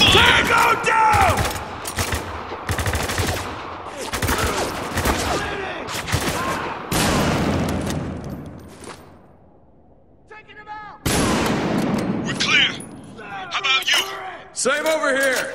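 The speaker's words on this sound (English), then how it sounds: "Taking heavy fire!" Heavy automatic gunfire and bursts of rapid shots from the war shooter video game Spec Ops: The Line, loud and dense, with shouting soldiers, a brief lull near the end, then renewed firing.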